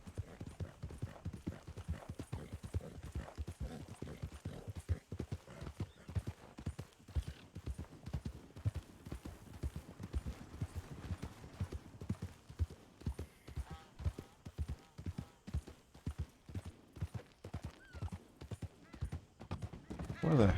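Horse hooves clip-clopping in Red Dead Redemption 2, a steady, quick rhythm of hoofbeats on the ground that continues throughout, joined by a horse's whinny near the end.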